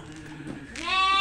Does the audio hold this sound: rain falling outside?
no